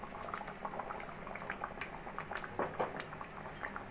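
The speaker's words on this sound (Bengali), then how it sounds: "জল দিয়ে ঝোলটা ফুটে উঠেছে" Curry broth with water added bubbles at a steady boil, a soft busy stream of small pops and gurgles heard close by with no voices.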